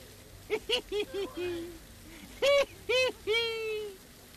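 Birds in the Sherlock Holmes: The Awakened game, an asylum setting, give a run of clear, tonal calls: a quick series of short notes, then a pause, then three louder, longer calls, close and alone without speech.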